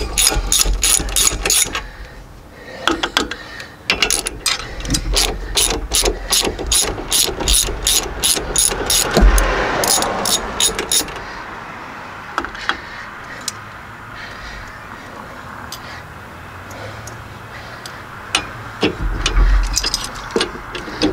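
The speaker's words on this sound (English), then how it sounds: "let's go ahead and pull them rockers out." Rocker arms and their hardware being pulled from a VW Type-3 engine's cylinder head, with a close, rapid ratcheting wrench clicking in bursts, then quieter metallic handling, clinks and scrapes.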